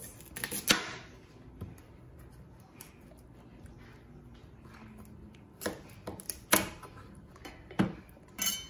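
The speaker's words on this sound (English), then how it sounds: "first chop them on either side to remove the corners" A knife chopping tapioca roots to trim their corners, a handful of sharp, close cuts and knocks against the board with quiet pauses between them.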